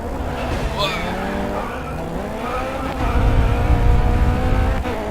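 Steady engine whine of race cars in the racing game Grid Autosport, rising and falling with gear changes, with a heavier low rumble swelling toward the end.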